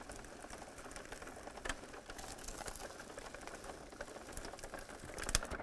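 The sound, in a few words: Xyron machine rollers feeding fabric through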